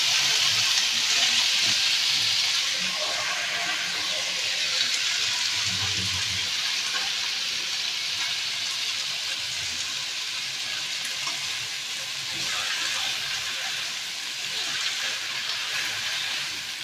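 Chopped jute leaves dropped into hot oil with a tempering of black cumin, garlic, and dried and green chillies, giving a steady, close, bright sizzle that hisses evenly throughout with no voices.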